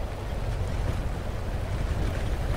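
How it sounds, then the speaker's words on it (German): Steady, full rushing roar of a waterfall in the video game Lightyear Frontier, loud and continuous with no breaks and no talking over it. "Hier ist dieser Wasserfall."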